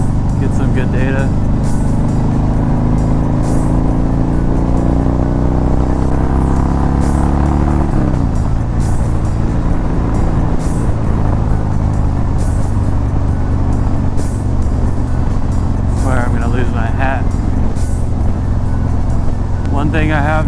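A motorcycle fitted with a 2021 Dynojet Power Vision tuner revs on a street ride, its engine droning loudly throughout and rising in pitch through throttle pulls while someone talks over it.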